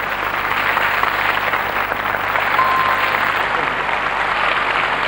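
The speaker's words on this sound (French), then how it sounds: "Allez, on l'applaudit très fort." Studio audience on a French quiz game show clapping loudly for a contestant, a steady, dense wall of applause sustained throughout.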